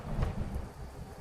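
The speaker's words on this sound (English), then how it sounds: "Some thunder, lightning over there." A brief rumble of thunder sits over steady rain in a trucking video game's thunderstorm, a low rolling boom that fades under the continuing rainfall.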